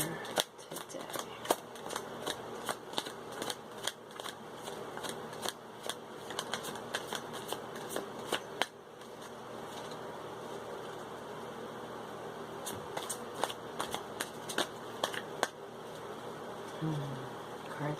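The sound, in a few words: shuffling a deck of cards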